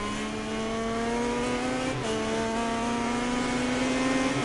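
A rival racing motorcycle in MotoGP 19 at Spielberg drones with a steady high engine whine, its pitch holding and dipping slightly as it runs close alongside.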